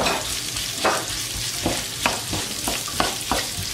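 Chopped onions fry in a pan for veg kurma, giving a steady close sizzle broken by the irregular scrape and clack of stirring.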